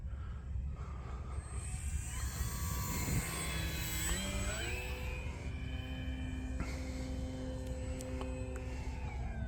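An Arrows Husky Ultimate RC plane flies overhead, its electric motor whining in pitch sweeps that rise and fall as it rolls and banks, steady and moderately close, with no voices.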